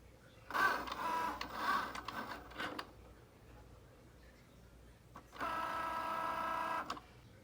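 A small electronic cutting machine works through collage sheets in two bursts of whirring, motor-driven cutting separated by a quieter pause, fairly close and moderately loud.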